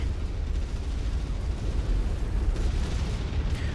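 In the game MechWarrior 5: Mercenaries, a generator is blown apart, heard as a sustained deep roaring rumble of explosion, loud and dense throughout, with a slight crackle near the end.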